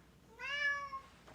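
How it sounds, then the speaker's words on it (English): A house cat gives one loud, drawn-out meow close by, with a brief faint scrape after it and no voices. "He's meowing very loudly."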